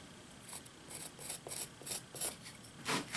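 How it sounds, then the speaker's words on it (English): Bandsaw blade cutting a curve through reclaimed lumber, heard as a series of short rasping bursts that get louder toward the end, with no talking. "So I'm going to just come around with a curve here on the bandsaw,"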